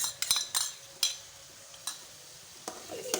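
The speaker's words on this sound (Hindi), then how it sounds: "और इसे अच्छे से मिक्स कर देती हूँ।" Cream stirred into a pasta masala gravy in a pan: a few sharp spoon scrapes and clinks against the pan over a faint sizzle.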